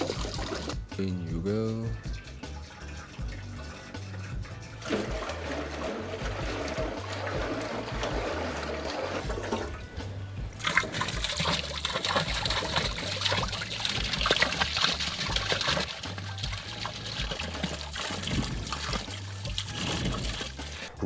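Liquid is poured and dumped from a full container, a steady trickling and splashing stream running under nearby talk and handling noise.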